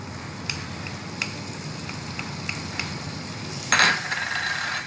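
Butter sizzling in a hot pan of caramelizing food, a steady crackling hiss punctuated by light utensil clicks and a brief louder burst of sizzle near the end.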